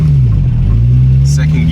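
A turbocharged car engine holds a steady low drone under full throttle, with a brief hiss near the end like a wastegate or blow-off release; the pull is loud and close throughout.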